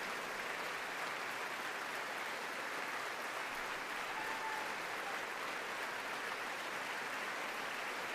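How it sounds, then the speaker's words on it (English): A standing audience in Congress applauds during Netanyahu's speech, a steady distant wash of clapping that runs on without a break, heard faintly throughout. "they're just standing and clapping"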